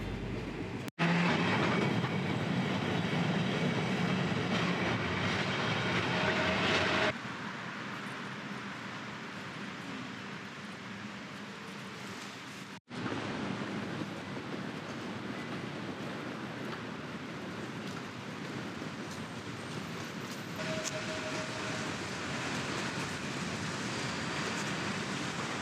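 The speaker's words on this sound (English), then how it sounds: "we also took one of these famous historic vintage Milan trams to get around" Historic vintage Milan tram with a wooden interior riding on rails in the city, a steady loud rumble of wheels on track from inside the car, with brief shifts in level and a short break partway through.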